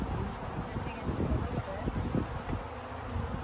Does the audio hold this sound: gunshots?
no